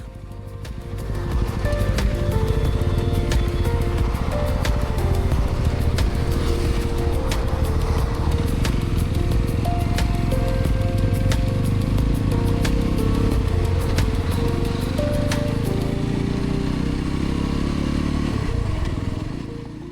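A Yezdi Roadster motorcycle cruises steadily on the road with a continuous loud engine drone and wind rush, rising and falling slightly in pitch throughout, with no voices.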